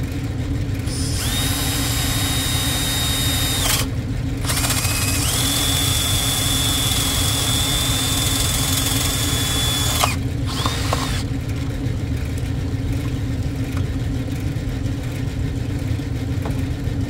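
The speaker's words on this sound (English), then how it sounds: "We're gonna have to drill these holes real quick." A power drill bores holes in plastic, its loud, steady high-pitched whine running in long stretches that briefly stop and restart, with no talking.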